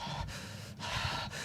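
A voice imitates panicked breathing through a mask: three ragged, rushing breaths, close and loud, each separated by a short pause.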